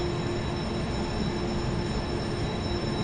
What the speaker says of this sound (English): That's one of the slow trains.